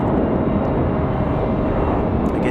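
A Delta Airbus A319 jet departing from Raleigh Durham airport on a windy day gives off a loud, steady engine roar that holds evenly without voices.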